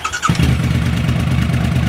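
A motorcycle engine cranks briefly and catches, then settles into a loud, steady idle close by, with no talking over it.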